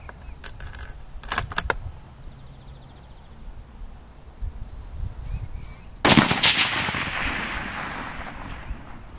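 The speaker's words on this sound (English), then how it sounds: "this freaking 308 shoots, buddy" A .308 rifle fires at a 12-inch steel plate outdoors. Several faint earlier reports are followed by one loud close shot that rings out and decays slowly. No one speaks.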